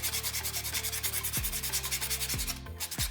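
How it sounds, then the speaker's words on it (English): Pink buffing block rubbed back and forth across a fingernail during a dip powder manicure, making a close, quiet, rapid rhythmic scratching with about a dozen short strokes and no talking. "I'll just do this nail and then I'll cut so you guys don't have to listen to buffing"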